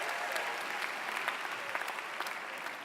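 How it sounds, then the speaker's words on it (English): Sustained applause from a high school commencement audience in a large venue, steady dense clapping held at an even level throughout without pause. "You don't need to applaud for me."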